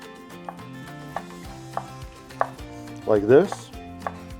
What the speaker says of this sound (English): We're just gonna do a nice little fine dice here.